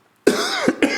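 Several sharp coughs from a man, close and loud: one harsh burst followed by a second quick pair, alone with no talk.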